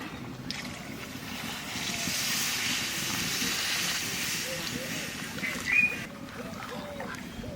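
Hot cooked dal hisses and steams as water is poured in, a steady broad hiss that rises then eases over several seconds, with a brief sharper burst near the end.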